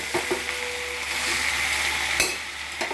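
Mixed vegetable curry fries in a pan as a little water goes in, producing a bright steady sizzle with scraping stirs and a couple of sharp utensil knocks nearby.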